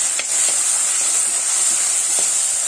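Mustard seeds splutter in hot oil for a fish head curry: a loud, steady sizzling hiss fills the clip, broken by a few sharp pops scattered throughout, with no voices.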